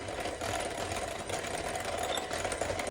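An electric hand mixer whirs steadily at close range, beating an egg into a small batch of lemon sugar cookie dough, a continuous buzzing drone with no speech.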